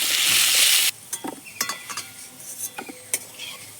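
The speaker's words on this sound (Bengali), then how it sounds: "কড়া গরম হয়ে গেছে তেল দিয়ে দিচ্ছি অল্প পরিমাণে লবণ অল্প একটু হলুদ গুঁড়ো দিয়ে আলুটা বেশ ভালো মতো করে ভেজে নেব" Potatoes frying in hot oil with salt and turmeric: a short burst of bright sizzle, then it cuts out into scattered clinks and scrapes of a utensil against the pan, close and fairly loud.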